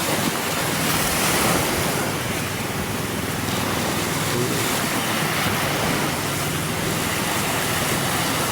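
Ocean waves wash steadily onto the shore at Kapalonga, a constant broad roar of surf mixed with wind noise that fills the whole stretch without a break.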